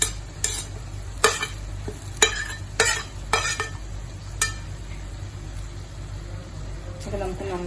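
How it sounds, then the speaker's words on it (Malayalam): Onion, ginger and garlic tipped onto squid frying in a pan, giving a steady sizzle with several sharp scraping stir strokes and clinks of a spatula against the metal, close and fairly loud. "സവാളയും ജിഞ്ചറും ഗാർലിക്കും എല്ലാം ഇതിലോട്ട് ആഡ് ചെയ്ത് കൊടുക്കാം"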